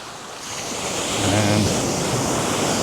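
Ocean waves washing onto a beach in the Dominican Republic, a steady surf wash that swells slightly louder midway, with some wind buffeting the microphone and no talking.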